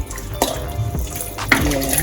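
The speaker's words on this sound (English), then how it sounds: "I'm gonna wash my peas now too." Gungo peas being rinsed in water in a Jamaican home kitchen, with splashing and pouring bursts at the start and again midway, fairly close and without talk.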